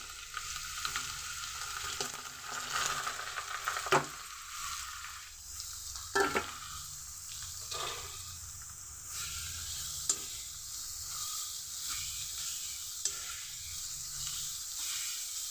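Curry leaves and carrot frying in a pan for an egg curry give a steady sizzle with occasional sharp pops and spatters, and stirring scrapes run through the middle.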